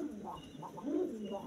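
Pigeons at a cheap pigeon sale coo in low, throaty bursts, several soft overlapping calls close by with no talk.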